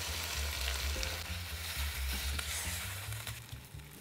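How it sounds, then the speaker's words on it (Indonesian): A pot of water with cabbage stalks and carrots bubbles and sizzles at a steady boil, a close, continuous bubbling hiss with no voices over it. "Sudah mendidih seperti ini"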